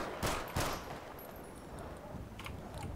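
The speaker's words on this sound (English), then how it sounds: "Is that you shooting people?" Airsoft guns firing during an outdoor airsoft game, two sharp nearby pops early on followed by fainter scattered distant cracks and clicks against a background of open-air noise.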